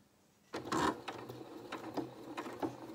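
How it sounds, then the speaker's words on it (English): Sewing machine stitching fabric for a small wool coat: a quick run of close mechanical needle thumps and whirring after a quiet start, loud and alone. "as we start to sew"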